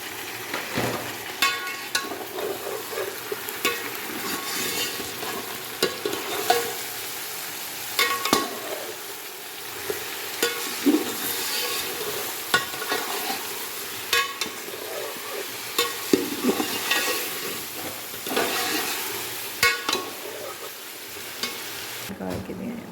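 Chicken sizzles and fries in a pot for restaurant-style degi biryani while it is stirred until it changes colour. A steady hiss runs throughout, broken by frequent scraping stirs and clinks, with no talking.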